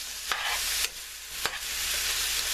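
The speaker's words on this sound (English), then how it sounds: "I'm going to just mix them up in here" Vegetables are stirred with oil, salt and pepper, giving a steady close-up wet scraping and shuffling with a few sharper strokes and no voices.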